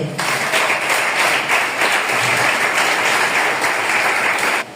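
A church congregation applauds together, a sustained dense wash of clapping that holds steady at full volume and then cuts off abruptly near the end.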